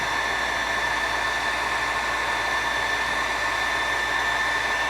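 A heat gun blows a steady, even hiss of hot air while shrinking heat-shrink tubing during motorcycle ignition wiring on a KZ400, constant and fairly close, with no talking.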